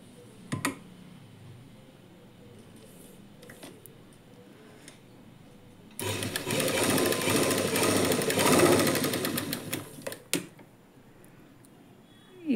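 A sewing machine puts a run of stitches into a lining blouse, a dense burst of rapid mechanical chatter lasting about four seconds, set between quieter handling clicks and rustles.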